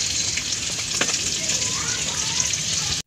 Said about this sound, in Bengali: এই মাছের ডিম একবারে ভেজে নেবো।